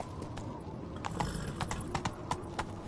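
Roach, the horse from The Witcher 3, trots with a few irregular hoof clops over a low ambient bed. The hoofbeats are moderately loud, with no talking.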